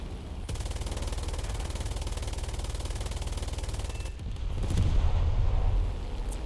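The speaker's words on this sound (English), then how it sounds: "I'm gonna shoot that AA battery" A BF-109 fighter's machine guns fire at an anti-aircraft battery in the War Thunder combat game, one long continuous rapid rattle that deepens and grows louder near the end, with no voices over it.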